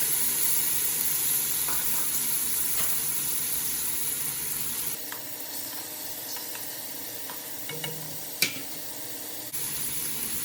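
Garlic sizzling and frying in a pan for callaloo, a constant bright crackle with occasional stirring clinks, briefly quieter midway before the sizzle resumes at full strength.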